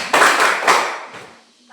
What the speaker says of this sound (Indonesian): Tepuk tangan dulu untuk Marcella.